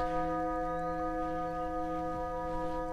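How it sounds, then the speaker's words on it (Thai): A bell of mindfulness rings with a steady, sustained tone rich in long, even overtones that hold without fading over a few seconds, alone and with no talking. "เสียงระฆังแห่งสติ"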